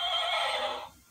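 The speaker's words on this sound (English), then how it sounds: "That's Miguel playing with his horsey." A toy horse gives a single short neigh, fairly loud and close, that fades out after about a second. No one speaks.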